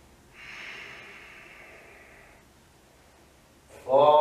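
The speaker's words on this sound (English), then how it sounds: "5 Ujjayi breaths." Ujjayi breathing during an Ashtanga yoga standing series: one long, airy, throaty exhale lasting about two seconds, close and soft. A voice starts speaking at the end.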